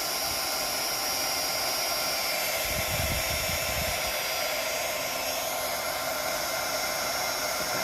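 A heat gun blows hot air on the bottom of a blue and white mica swirl resin wine tumbler, producing a constant loud whooshing hiss that runs unbroken throughout at close range.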